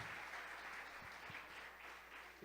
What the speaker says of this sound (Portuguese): Vamos dar uma linda salva de palmas então ao Senhor.